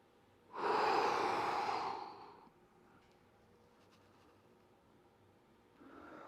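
A person breathing during yoga leg lifts, one strong, close exhale lasting about two seconds, a quiet pause, then the start of another breath at the end.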